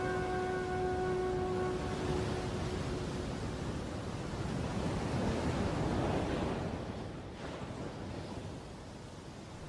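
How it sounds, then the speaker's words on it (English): Storm wind and heavy surf roar as a dense, loud wash of noise on Christmas Island, then ease and thin out toward the end as the storm dies down. "Finally, the storm recedes."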